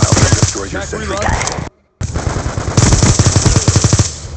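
Rapid automatic gunfire from a sentry gun in Call of Duty: Black Ops 2 multiplayer, loud, dense bursts with one brief silent gap, then continued firing.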